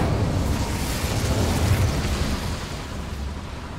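Incendio fire spell blast in the Hogwarts Legacy video game, a loud sustained roaring whoosh of flame with deep rumble, continuous for several seconds without talk.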